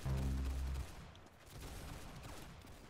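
Pistol gunfire in a Roblox shooting game: a dense, loud burst of rapid shots for about the first second, then a rumbling, clattering tail of further fire and echoes that continues at lower level.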